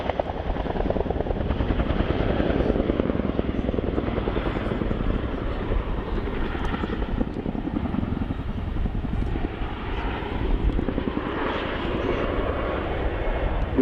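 A Chinook helicopter at an air display, its rotor chop and engine roar steady and loud throughout, with no talk over it.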